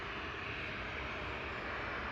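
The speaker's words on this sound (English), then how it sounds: "This is a 737-700, one of the shorter ones" A KLM Boeing 737-700 airliner departs Manchester Airport, its engines giving a steady, broad, close roar throughout with no talk.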